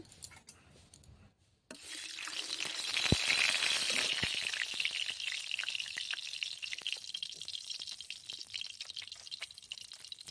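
Oil sizzling and frying in a hot wok (kadai), starting after a brief quiet pause and then a steady, loud crackle with a few sharp pops, no talking.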